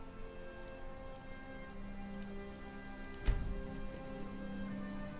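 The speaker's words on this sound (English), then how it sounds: "Cool, it started raining." Rain falls steadily in the video game Skyrim, a faint, even patter with light ticking drops and a single soft thud partway through.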